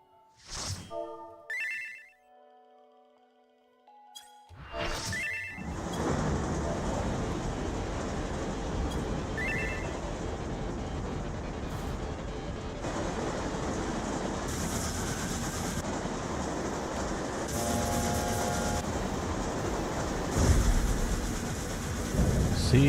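Doom Train rushing past in Final Fantasy XIV, with a loud, steady roar and clatter of rail noise under music, preceded by sparse ringing chimes and ending in heavier rumbling impacts.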